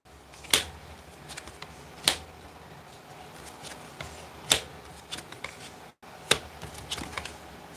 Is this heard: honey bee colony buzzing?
no